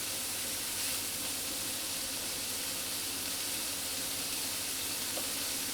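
Onions and pancetta sautéing in a pan on three-quarter heat, a steady even hiss of frying that stays constant and unbroken, with no voices.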